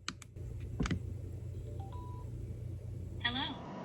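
A Sena 50C motorcycle helmet camera and comm unit powers on with a few sharp clicks followed by a short series of electronic beeps and a rising chirp tone, fairly close, over a faint background hum.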